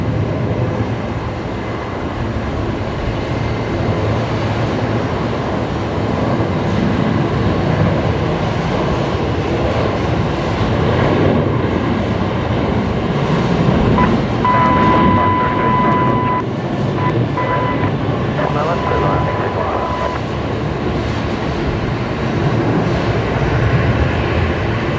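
A Boeing 737-800 rolls down the runway at Brisbane for takeoff, a steady, distant engine roar building gently and sustained throughout, with no talk over it.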